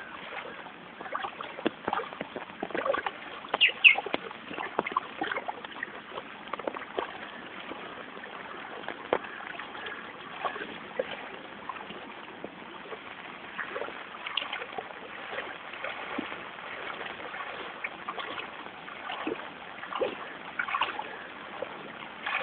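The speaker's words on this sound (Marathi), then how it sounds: "पाहू शकताय ओसंडून वाहणारं पाणी" Overflowing flood water rushes through the streets like a river, a steady broadband wash with scattered splashes, heard through a narrow, muffled recording.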